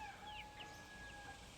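A small flock of hens and roosters gives faint, brief clucking and chirping calls from a short distance, with a steady hum behind them.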